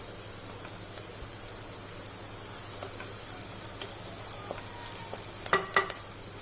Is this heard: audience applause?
no